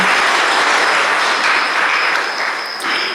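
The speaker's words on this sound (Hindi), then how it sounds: "सब ताली बजाओ इनके लिए" Sustained, dense applause from a large crowd at a Brahma Kumaris spiritual gathering in Madhuban, a loud, even wash of clapping that fades slightly toward the end with no talk over it.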